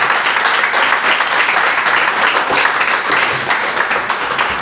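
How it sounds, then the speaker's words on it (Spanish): A church congregation applauds during a service, loud and close, a sustained dense patter of many hands clapping steadily throughout without pause. "Dale un aplauso al Señor"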